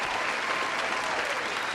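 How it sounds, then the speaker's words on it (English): An audience applauds at a poetry anthology launch event, a steady, dense wash of many hands clapping together at moderate volume, continuous throughout with no pauses and no clear voices. "Oh yeah, we're applauding."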